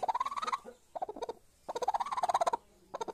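A broody aseel hen gives rapid, pulsing clucks in bursts separated by short pauses, close and fairly loud, with no voices.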